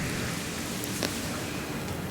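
Steady rain sound effect from the Rain Dance move in the Pokémon Scarlet video game, a continuous, even hiss of falling rain with a faint brief crackle near the middle, fairly quiet and without voices.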